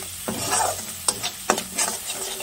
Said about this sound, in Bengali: ফোড়নে দিয়েছি শুকনো লঙ্কা, তেজপাতা, পাঁচফোড়ন, জিরে গুঁড়ো, হলদি গুঁড়ো, লঙ্কা গুঁড়ো, ধনে গুঁড়ো দিয়ে জাস্ট একটু কষিয়ে নিচ্ছি